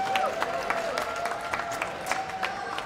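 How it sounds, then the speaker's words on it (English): Crowd at a Malaysia/Singapore mobile esports grand final applauds and claps, a moderate, steady patter of hands with scattered cheers. "Can we get a round of applause or a shout for IDNS SG?"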